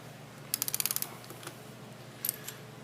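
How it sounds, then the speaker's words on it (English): A wrench ratchets as it breaks loose the nut on a threaded-rod expansion anchor during a cabinet installation, giving a quick run of sharp clicks followed later by a brief second burst, close and with no talk. "So we're going to break the nut loose"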